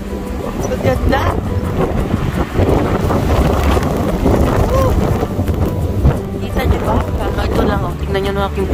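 Strong gusting wind roars during a spring snowstorm, buffeting the microphone with continuous loud rumble and rushing noise, while someone talks over it and a few short higher-pitched sounds cut through near the end.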